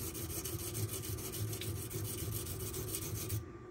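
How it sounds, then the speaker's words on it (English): A Kershaw Bel Air knife in MagnaCut steel is ground on a drying, unlubricated whetstone, giving a steady close rasping scrape that runs continuously, then stops abruptly near the end. "the stone is drying out, so it's starting to sound a little coarser, because there's no lubrication on it"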